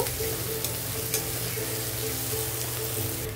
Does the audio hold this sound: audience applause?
no